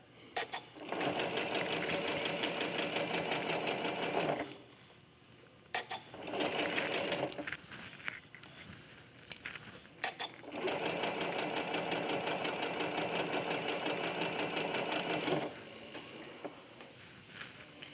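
A sewing machine stitching pinned quilt block pieces together, running in three long rapid bursts of mechanical stitching separated by brief pauses, close and clear.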